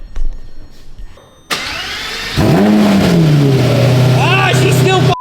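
A damaged Lamborghini engine that is leaking coolant cranks and fires up, then settles into a loud, steady, rumbling run close by, with a few higher revving swells near the end.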